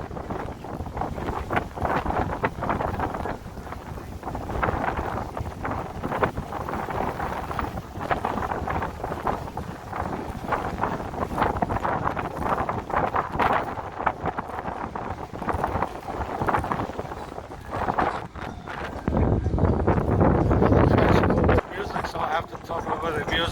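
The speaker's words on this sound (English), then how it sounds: "Too windy." Strong gusty wind buffets the microphone throughout, a constant roar with a louder burst near the end, with a voice faintly mixed in.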